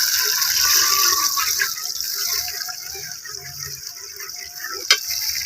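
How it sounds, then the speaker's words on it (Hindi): Mashed garlic sizzles in hot ghee for a saag tadka, a steady bright frying hiss with stirring and a sharp clink near the end, under faint background voices. "फिर हम लोगों ने अंदर लहसुन मैश किया हुआ डाल देना है"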